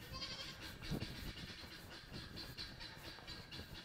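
Young goats on a farm bleat in a few short, rough calls over steady outdoor noise and shuffling, fairly close and moderately loud.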